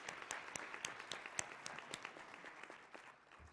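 A conference crowd at a 2014 NOW gathering breaks into applause, a brief burst of many hands clapping at medium distance that tapers off within a few seconds.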